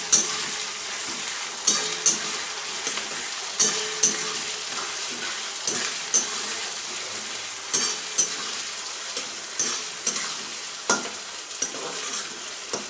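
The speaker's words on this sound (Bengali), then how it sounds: "এবার এর মধ্যে আমি দিয়ে দেব রসুন আর পেঁয়াজ রসুন আর আদা চলো এটাকে ভালো করে আগে মিশিয়ে নিই" Garlic, onion and ginger sizzle steadily in a hot pan while a spatula stirs them, with regular sharp scraping strokes every second or so over continuous close frying hiss.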